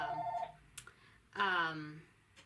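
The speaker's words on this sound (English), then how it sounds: "sorry, phone ringing" A telephone rings indoors with a steady, fairly loud ringtone at the start, followed by a person speaking close by.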